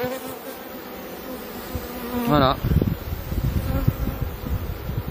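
Honeybees swarm over brood comb full of white larvae, giving a steady, dense, close buzzing that fills the whole stretch, while a voice speaks briefly partway through.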